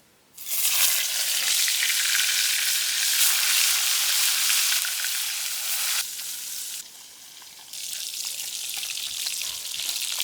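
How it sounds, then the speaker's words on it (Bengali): Koi fish frying in oil in a wok, a loud, dense hiss and crackle that starts abruptly after a quiet moment, stays steady, dips briefly near the end and then rises again, with no talk. "এগুলা একটু হালকা একটু ভাজিয়ে নিতে হইবে"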